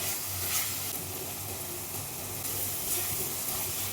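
Fish curry masala for bhola fish frying in oil with a few spoons of yogurt, a soft continuous sizzle and bubbling with faint stirring, fairly quiet and steady, with no talking.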